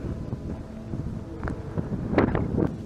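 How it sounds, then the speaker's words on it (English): Gusty outdoor wind buffets the microphone on a spooky nighttime walk, a continuous low rumble that swells in bursts toward the end, with no voices heard. "Hopefully this wind doesn't mess up the audio too bad."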